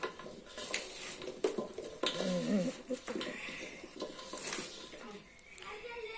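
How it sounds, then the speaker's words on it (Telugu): Mango pickle pieces being mixed by hand with salt, chili and fenugreek powder in a vessel, with irregular clinks and scraping of a pot and utensil, moderately near, under occasional talk. "ముక్కలన్నీ వేసి ఆ ముక్కలకి ఉప్పు కారం మెంతి పొడి అంతా పట్టే అంతవరకు కలుపుతున్నారు."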